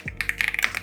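Rapid typing on a mechanical keyboard from a personal collection, a quick close run of crisp, clacky keystrokes with a few heavier thocks mixed in, loud and alone.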